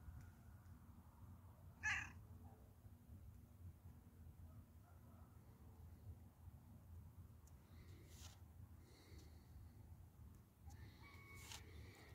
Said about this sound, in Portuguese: Vocês ouviram ele miando?